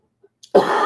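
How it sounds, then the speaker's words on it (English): A single short cough, close and loud, after a brief near-silence. "I feel like I keep coughing now."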